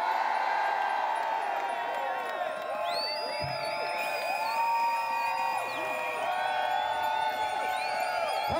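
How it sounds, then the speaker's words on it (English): A crowd at a cycling safety protest in London cheers together after a countdown, a loud sustained wash of voices, whoops and shouts that fills the whole stretch. "And I want us to cheer for cycling."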